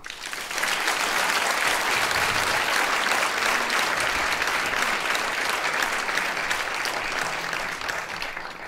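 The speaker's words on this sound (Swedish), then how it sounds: "Vi ger henne en varm applåd." Warm, sustained applause from a gala audience at a Swedish children's cancer charity evening fills the room, steady and dense from start to finish with no talk over it.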